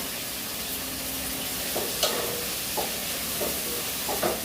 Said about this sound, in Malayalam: വഴട്ടി വെച്ചിട്ട് ഞാൻ കാണിക്കേ